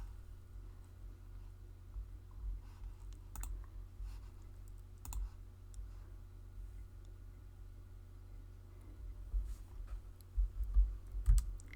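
Computer mouse clicks come in a few faint, sharp taps scattered over a quiet room hum, with a small cluster of louder clicks toward the end.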